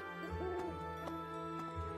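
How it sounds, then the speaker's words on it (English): A bird in the Fire Emblem Three Houses video game gives soft, low owl-like hoots over steady background music, quiet and close. "Is there a bird?"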